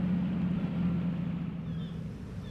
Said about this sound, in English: Sounds like an engine.